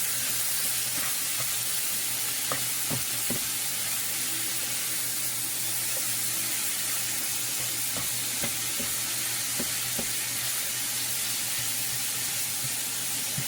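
Ground meat broken up and stirred as it cooks in a pan, a continuous close sizzle with scattered scraping taps and clacks of the utensil and no talking.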